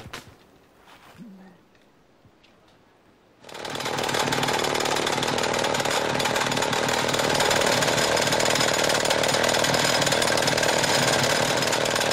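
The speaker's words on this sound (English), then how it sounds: "Another hole must be drilled in an attempt to split it before the nightfall." A power drill bores a hole into a large block of jade in Guatemala, starting abruptly after a quiet stretch and then grinding on in a loud, steady, continuous roar.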